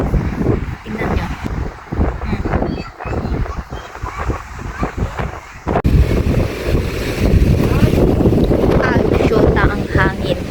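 Loud, gusty wind buffeting a handheld phone's microphone in Carasi, Piddig, Ilocos Norte, with heavy low rumble, growing stronger partway through, with voices faintly talking underneath.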